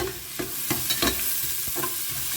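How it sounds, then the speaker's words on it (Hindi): Onions sauté in a pan for veg pulao, a soft sizzle under repeated scraping and stirring strokes of a spatula at a steady, close-up rhythm. "अब इसमें डालते हैं प्याज और प्याज को ना हमें 1-2 मिनट के लिए अच्छे से भून लेना है।"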